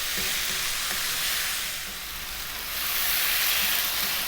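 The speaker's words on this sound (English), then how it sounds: "we're going to stir fry this around on a fairly high heat" Potatoes stir-fry in a pan on high heat for a potato curry, with a loud, steady, close sizzle and hiss that swells and eases as they are moved around.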